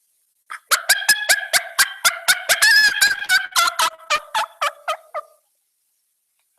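An imitated wild turkey hen call: roughly twenty rapid, evenly spaced yelps that build into a dense burst mid-sequence and then taper off, loud and close with no other sound.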